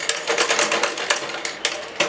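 A sewing machine stitches a designer blouse patch at home, with a rapid mechanical whirring and clatter close to the microphone and a few sharper ticks as the stitching stops and starts.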